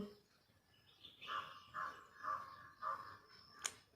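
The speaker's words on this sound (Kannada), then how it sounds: "ಕಾಗೆ ಕರಿತೈತೆ" A crow calls outdoors in the morning, giving four evenly spaced caws at moderate distance against a quiet background, with a sharp click near the end.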